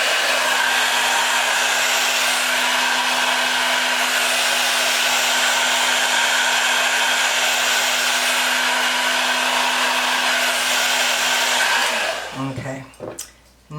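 A hair dryer blowing down a wig hairline, a loud, close, steady whooshing roar that runs unbroken for about twelve seconds before cutting off, followed by a few faint handling sounds.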